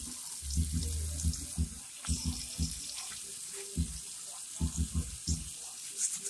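Hot water runs from a tap while hands are scrubbed clean of cured foam sealant, a steady near stream broken by rubbing splashes, with faint speech in the background.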